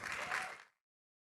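A crowd at a hip hop talk event claps loudly for under a second, then the applause cuts off abruptly into silence.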